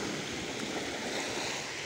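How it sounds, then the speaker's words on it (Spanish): Sea waves washing onto a beach at Playa de Levante in Águilas, a steady broad rushing surf close by with some wind noise, no talk. "Pero sí se aprecia el sonido de las olas, ¿verdad?"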